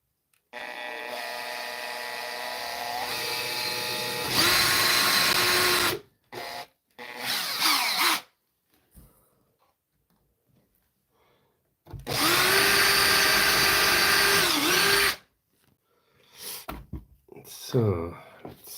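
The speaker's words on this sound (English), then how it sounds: "Where's the drill?" A handheld power drill whirs in two sustained bursts of several seconds each, loud and close, during a rough pirate-themed DIY build by eye, with short clunks and handling noises between runs.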